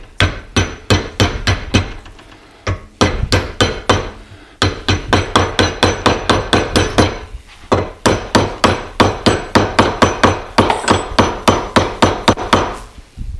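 Steady rapid hammering with a soft-faced hammer, creasing copper sheet over along a bend line in a home workshop, loud close blows in bursts of regular strikes with brief pauses between runs.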